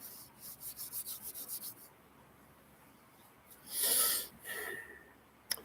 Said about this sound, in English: Rub your hands together, rub your forearms